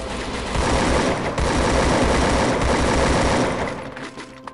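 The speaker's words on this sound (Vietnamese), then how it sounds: "Anh thấy nó bắn không? Ở trên nó bắn." Rapid automatic gunfire rattles loud and sustained from above in the battle-royale game Garena Free Fire, a dense fusillade of shots that tapers off near the end.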